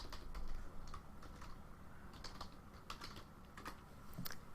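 Soft, rapid clicking of keys on a computer keyboard, irregular taps close by with a faint background hiss.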